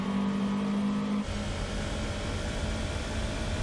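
A race car engine revs high in Gran Turismo 4, a sustained loud tonal whine that drops off after about a second into rougher, lower engine roar continuing steadily.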